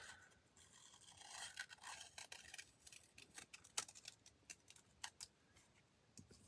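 Scissors snip and trim through collage paper in a run of quick, crisp cuts with small rustles and scrapes, very close but quiet, with no talking.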